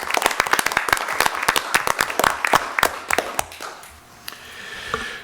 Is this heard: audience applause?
yes